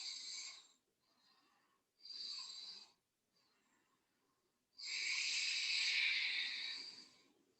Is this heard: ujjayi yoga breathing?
yes